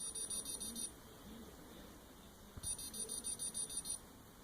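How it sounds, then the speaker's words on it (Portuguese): Arduino Nano distance-sensor alarm buzzer: two bursts of rapid, shrill repeated beeping separated by a quiet gap, faint under light background noise in a small room. "dispara o alarme. O alarme está associado a um buzzer e ao LED vermelho."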